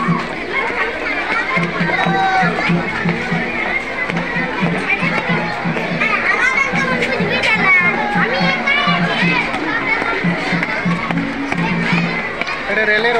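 Busy Vijaya Dashami fair crowd, a dense continuous babble of many voices and movement close around, steady and loud throughout with no single voice standing out.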